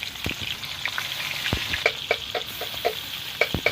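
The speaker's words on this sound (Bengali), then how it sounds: "একে একে এগুলো ভেজে নেবো।" Continuous sizzling of tangra catfish with roe frying in oil, the roe bursting in frequent crackling pops and spatters close by.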